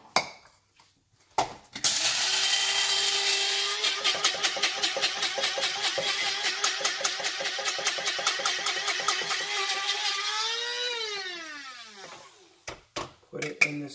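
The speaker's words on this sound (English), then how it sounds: "So here's our chia. Here is our pumpkin seed. We'll grind that up." Chia and pumpkin seeds ground in an electric grinder: a loud, steady buzzing whir with rapid rattling pulses that runs for about nine seconds, then winds down in pitch as the motor stops, with brief knocks before and after.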